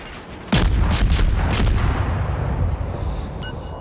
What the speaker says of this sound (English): So I'm just going to continue to use these great guns and just really try to rip apart that Bismarck.